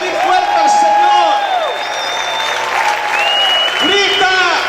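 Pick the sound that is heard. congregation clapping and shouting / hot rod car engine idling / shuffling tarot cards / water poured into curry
congregation clapping and shouting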